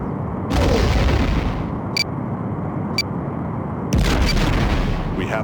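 Starship weapons fire in the DOS video game Star Trek: The Next Generation – A Final Unity, with loud booming blasts over a constant engine rumble and two short sharp bleeps in between.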